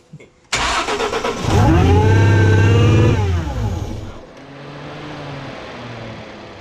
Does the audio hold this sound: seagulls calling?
no